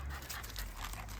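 Dogs named Jack and Chewy panting close by on a walk around a rural property, a short stretch of quick, breathy huffs with a steady low hum beneath.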